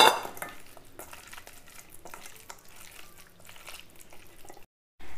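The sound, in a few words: mixing fish pieces with salt and masala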